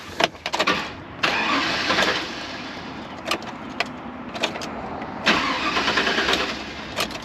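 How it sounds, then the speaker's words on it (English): A 2000 Chevrolet Silverado 1500 extended cab cranks repeatedly without catching, each close, loud starter burst broken by short pauses and none settling into a running idle. "Crank no start"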